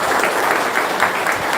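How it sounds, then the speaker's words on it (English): Church congregation at a diaconate ordination Mass claps for the newly ordained deacons, a dense, steady wash of applause filling the whole short moment without speech. "we shall ask the congregation to give a round of applause"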